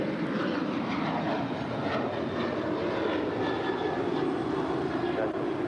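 A United airliner rolls for takeoff on runway 25 right at LAX, its engines a loud, steady roar filling the whole stretch without a break.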